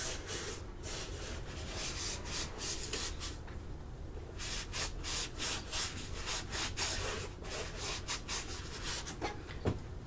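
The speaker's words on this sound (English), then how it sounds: "You rub it, just rub it all around the white part of the shoe." Cleaner is rubbed around the white part of a Nike shoe, making quiet, close, repeated scrubbing strokes in a steady back-and-forth rhythm, with no voices.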